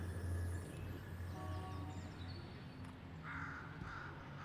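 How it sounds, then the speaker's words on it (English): Crows caw in the Deadlock video game, a shared Half-Life sound effect, as a few distant calls over a low steady ambient rumble. "I can't hear those crows without thinking that's a shared Half-Life sound effect."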